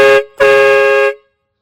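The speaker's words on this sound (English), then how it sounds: "I'm going to do a demo of each quad train horn." Two loud blasts from a Milwaukee battery-powered quad train horn, a short toot followed by a longer sustained chord of bright, buzzy harmonic tones, then silence.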